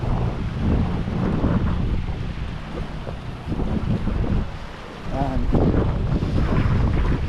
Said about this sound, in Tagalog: Medyo mataas yung tubig ng dagat ngayon.